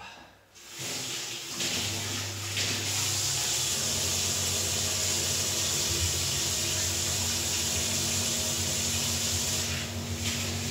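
Water runs steadily from a kitchen tap during washing up, a continuous close hiss that starts abruptly and continues for about ten seconds, with a faint low hum underneath and no talking.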